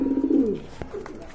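A pair of local domestic pigeons at a sale gives a short, close, loud coo with a falling tone, then a faint click and a softer trailing murmur.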